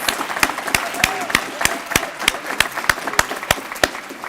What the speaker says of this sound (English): Please join me in one more round of applause to recognize these exceptional students.